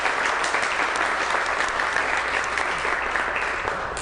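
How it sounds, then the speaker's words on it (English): An audience breaks into sustained, dense applause for a guest panelist at an evening panel event, steady and close throughout with no voices over it. "So a round of applause for L. Nathan Hare"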